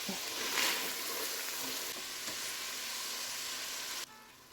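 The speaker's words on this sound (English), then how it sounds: "Give it a stir." Chili with garlic sizzles in a pan as it is stirred, a steady bright hiss with a few scraping bursts, fairly quiet, before the sizzle drops away near the end.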